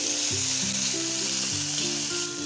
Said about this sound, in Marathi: अगदी एखादा मिनटं आपल्याला हा कांदा परतून घ्यायचा आहे